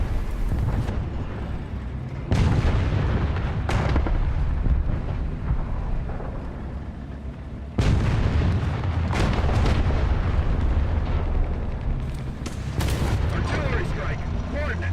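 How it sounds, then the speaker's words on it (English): Artillery strike fire in a ground battle video game, several heavy booming blasts at irregular intervals over a constant rumbling din, with voices talking throughout. "Artillery strike."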